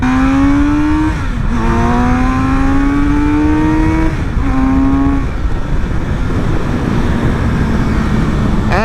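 A Kawasaki Z900RS motorcycle ridden hard in third gear at around 100 km/h, its engine note climbing loudly through two rising revs with brief dips between, then steadying amid heavy wind roar.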